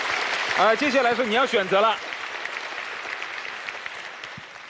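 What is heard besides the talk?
studio audience applause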